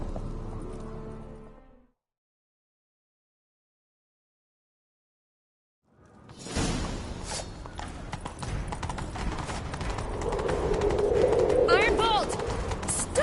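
Rapid hoofbeats of a galloping horse in The Witcher 3 clatter continuously after a stretch of silence, with a brief whinny-like cry near the end.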